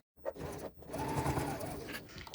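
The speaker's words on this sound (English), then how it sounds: "So sewing the exterior boxed corners at 3/8 of an inch." A sewing machine stitches the exterior boxed corners of a fabric crossbody bag at a 3/8 inch seam, giving a close, steady mechanical whir after a few brief taps at the start.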